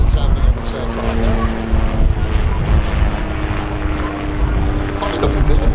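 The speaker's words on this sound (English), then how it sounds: "This is the Catalina Auto Gyro." A Catalina autogyro, a rotor-winged light aircraft, drones steadily with a propeller engine hum at an airshow, a continuous mid-distance rumble with crowd and outdoor noise around it.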